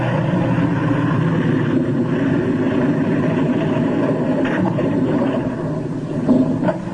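Single-engine, ski-equipped aircraft touching down on Antarctic ice, a steady loud propeller-engine roar filling the whole stretch with a brief swell near the end.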